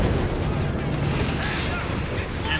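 Tank cannon fire at a Black Prince tank in Company of Heroes 3 booms in a dense burst of battle noise, loud and close, with several shots blending into a rumbling wash of explosions.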